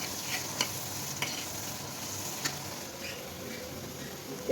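Spice paste sautéing in a pan for a taro-root dish gives off a low, steady sizzle, broken by a handful of sharp spatula taps against the pan at irregular intervals.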